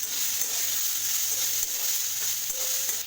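Chopped thankuni leaves fry in a pan with a bright, continuous sizzle, overlaid by faint stirring scrapes and a few light utensil knocks.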